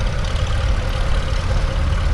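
A vintage Ferguson tractor drives around the arena at a transport festival, its engine giving a steady, close, low rumbling drone with no talk over it.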